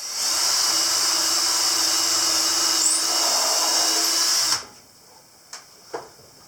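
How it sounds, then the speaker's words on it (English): A power drill pre-drilling screw holes in porch gate wood, whining steadily and loud for several seconds before cutting off, followed by two faint knocks. "first I'm going to pre-drill this and get the screws started"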